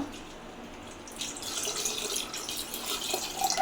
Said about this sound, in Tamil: இப்போ நம்ம பாவை எடுத்து வச்ச தேங்காய் பாலை ஊற்றிக்கலாம்ப்பா